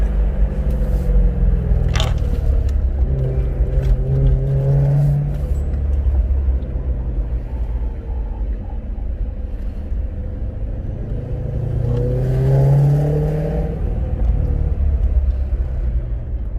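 A BMW E92 M3 engine rumbles steadily with low exhaust burbles and crackles swelling twice, the drone continuing throughout without speech.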